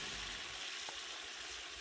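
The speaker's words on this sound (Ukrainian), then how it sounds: "У його казані шкварчить закарпатський бограч за домашнім рецептом." Transcarpathian bograch stew sizzling in a cauldron, a steady broadband hiss of frying that is faint and continuous with no talk over it.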